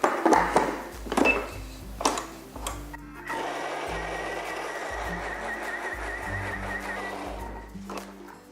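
Apple puree and wet ingredients for a chocolate cake are worked together in a bowl: a few dull knocks and clatters open, then a steady whirring of mixing runs on, fairly close and moderately loud.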